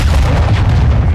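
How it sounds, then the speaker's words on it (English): An explosion from a cruise missile strike in the video game Modern Warfare II: a loud, deep rumbling boom that rolls on steadily for the whole moment without fading. "Hostiles launched a cruise missile."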